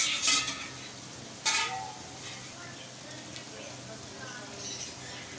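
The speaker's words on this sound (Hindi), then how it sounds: "कोयले को हम रखेंगे बर्तन के अंदर इस तरीके से, और हल्का सा डालेंगे इसके ऊपर कुकिंग ऑयल।" Cooking oil hits hot charcoal set inside a pot for Hyderabadi dum qeema, giving two sharp sizzling bursts followed by fainter crackling and light clinks.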